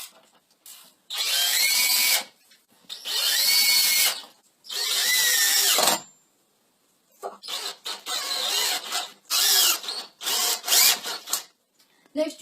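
A power drill drives screws to fix angle brackets onto a bike, with several loud, close bursts of whirring and ratcheting separated by short pauses.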